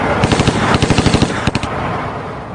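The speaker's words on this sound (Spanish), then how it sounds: "abrió fuego desde el asiento trasero de un vehículo en movimiento" Bursts of gunfire sprayed from a moving vehicle on an East Harlem street, a rapid string of loud, close shots in two clusters with a brief pause between them.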